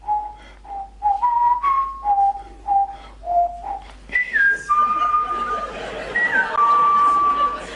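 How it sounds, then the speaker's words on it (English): A few people whistle a TV theme tune together, short rising and falling phrases, fairly close, with some murmuring voices underneath. "We do actually have a tape of them whistling."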